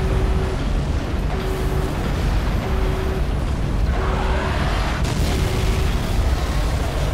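Repeated heavy booms and rumbling blasts from a Halo 3 battle, continuous and loud, with a steady low roar underneath and no talking.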